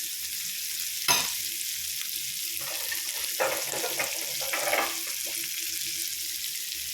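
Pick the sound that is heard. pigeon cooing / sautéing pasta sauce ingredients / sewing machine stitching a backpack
sautéing pasta sauce ingredients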